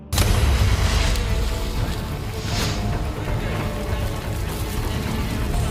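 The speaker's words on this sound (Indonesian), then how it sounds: "api yang menyala justru menyambar tabung gas yang berada di dekat situ hingga akhirnya meledak" A gas cylinder ignited by burning straw explodes, a loud sustained boom and roar that fills the whole stretch, rumbling heavily and steadily without pause.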